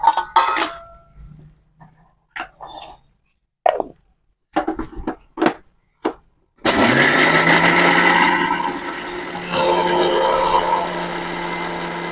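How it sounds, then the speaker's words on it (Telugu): Several light clinks and taps come first as roasted mustard and fenugreek seeds are loaded. Then an electric mixer grinder starts with a loud, steady whirring grind that holds to the end with a brief dip, and no one speaks. "ముందు ఆవాలు మెంతులు మిక్సీ పట్టుకుంటున్నానండి."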